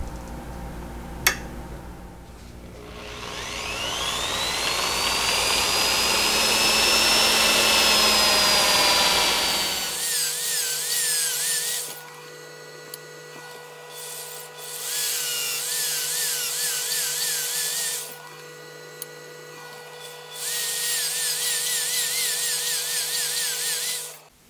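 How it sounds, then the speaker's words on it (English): A power drill whines loudly and steadily, then shifts to a higher, wavering drilling sound that cuts in and out in bursts as it bores holes into a metal lathe pulley. "now I'm going to go through and drill all the holes that I will index to"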